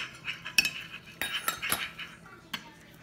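A utensil stirs colored sand in a container, giving soft scrapes and a few light clinks in scattered bursts, faint and close.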